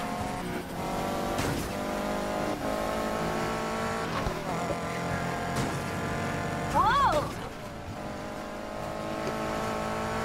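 A racing car in Need for Speed Heat, a video game, holds a loud, droning engine note at high revs, with a brief surge near the end, while voices talk over it.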